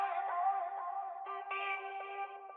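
Neo soul vocal sample run through light drive, band-pass filtering and delay, giving a thin, mid-focused sung tone with echoing repeats, steady and moderately quiet throughout.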